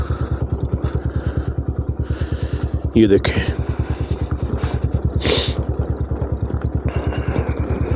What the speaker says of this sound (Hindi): बड़ी ही आस्ता आस्ता पिछली ब्रेक के साथ मैं बाइक उतार रहा हूँ।